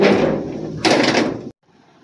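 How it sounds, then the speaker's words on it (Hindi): A village house door is pushed shut with a scraping slide, rising to a louder second surge before a sudden stop, close by and without talk. "फिलहाल दरवाज़ा बंद कर देते हैं।"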